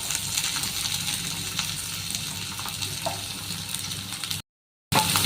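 Halved small shallots frying in hot oil with curry leaves while cooking a jackfruit seed stir-fry, a steady close sizzle running throughout before a short silent break near the end.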